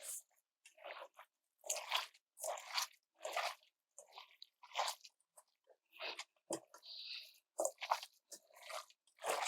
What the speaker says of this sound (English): we take our hands and we mix this up together